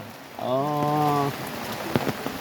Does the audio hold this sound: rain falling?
yes